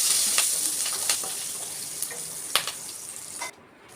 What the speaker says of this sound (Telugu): రెండు కరివేపాకు గిన్నెలు మంచిగా చిట్టుపట్టలాడే వరకు వేయించుకోవాలి